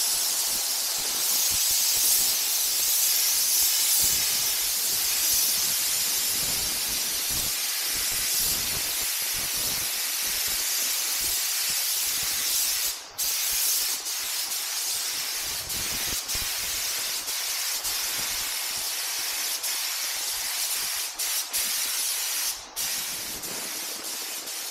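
A can of spray primer hisses continuously as it coats plastic campervan parts, a loud, close, sustained spray with a few brief pauses between passes.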